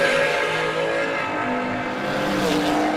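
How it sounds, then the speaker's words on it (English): Drag racing cars at a dragster launch give a loud, dense roar with rising tonal engine whine and tire hiss, sustained and close for a few seconds. "Sam in the Bayou Fabricator undercover dragster"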